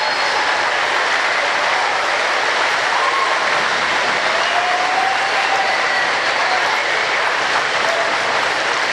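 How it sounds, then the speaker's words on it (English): A school audience at a Veterans Day program gives a sustained round of applause, a dense, even wash of clapping from many hands that stays loud and steady throughout. "give one more round of applause for those veterans that are here today"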